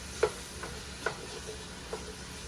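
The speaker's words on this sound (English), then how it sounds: "So we let those saute down for a bit" Onions and celery sautéing in a pan for Bahamian peas soup, a soft steady sizzle close by with three light spoon clicks against the pan spaced evenly apart.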